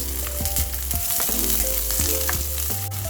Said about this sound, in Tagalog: lalagay na natin yung ating sibuyas. Igigisa lang natin yan guys